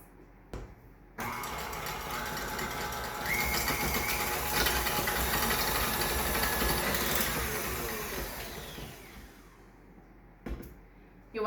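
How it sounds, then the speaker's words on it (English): Electric mixer creaming butter and cream cheese for a gluten-free cinnamon roll frosting, a steady motor whir that kicks in abruptly, runs loud and continuous for about nine seconds, then cuts off with brief clatter. "We have butter and cream cheese that we're gonna go ahead and cream together before adding anything else."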